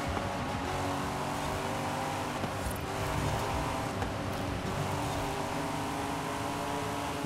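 Several racing cars in Forza Horizon 5 drone loudly and steadily together as a pack, engines sustained and revving slightly with brief surges, a continuous dense roar with no talking.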